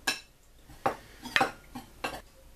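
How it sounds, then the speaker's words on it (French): A tablespoon mixes flour and spices in a dish for breaded chicken, giving five or six distinct clinks and scrapes of metal against the dish, spaced irregularly and close by. "avec notre cuillère à soupe, on va mélanger tous les ingrédients à la farine"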